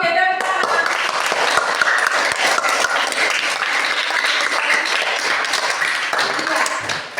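A classroom group applauds together, a dense burst of many hands clapping that starts abruptly and carries at a steady, fairly loud level for several seconds before cutting off.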